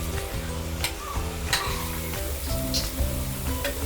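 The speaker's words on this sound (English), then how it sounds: "Add the fish pieces and saute for 2 to 3 minutes." Mullet fish pieces sauté in a pan for besara, giving a steady low sizzle with light scraping strokes at intervals, near and alone.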